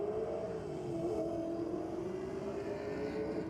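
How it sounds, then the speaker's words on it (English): A drag race car at full throttle in a DYO shootout, its engine holding a steady loud roar as the tyres spin, with no breaks in the sound. "We just absolutely buried the foot then and just nuked those tyres"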